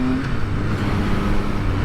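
A 2020 Triumph Speed Triple RS super naked motorcycle engine runs steadily and loudly close by, a continuous deep throbbing drone with no talk over it.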